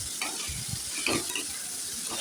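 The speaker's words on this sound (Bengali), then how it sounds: "5 ফোড়ন, লঙ্কা ফোড়ন আর পেঁয়াজ ফোড়ন দিয়ে বেগুন আর করলাটা ভেজে নেব" Eggplant and bitter gourd fry in oil with panch phoron, dried chilli, nigella seeds, salt and turmeric, giving a close, steady sizzle broken by a few stirring scrapes.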